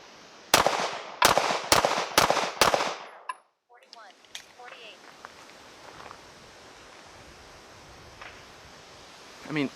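A Sig Sauer P320c compact pistol fired five times in quick succession at a range, loud sharp cracks, followed by quieter shuffling and ambient noise.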